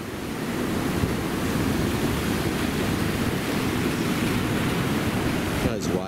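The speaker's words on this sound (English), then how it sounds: "Those waves at the back. Love what's in the waves rolling in." Ocean waves roll in continuously on a Gold Coast beach, a dense roaring wash of surf that stays steady and loud throughout.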